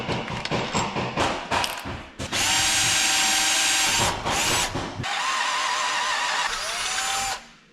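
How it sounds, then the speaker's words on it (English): A power drill with an eighth-inch pilot bit, then a 5/16-inch bit, bores through snowmobile suspension parts in short bursts, then whirs steadily at high speed in two longer runs, loud and close with a grinding bite. "Drill your hole"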